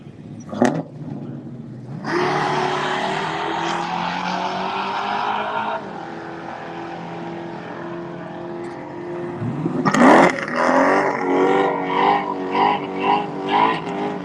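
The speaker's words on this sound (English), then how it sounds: "That's a big burnout." A drag racing car at a drag strip revs hard and holds a long burnout, a loud engine drone with squealing tires, then sharp revving bursts and bangs at the end.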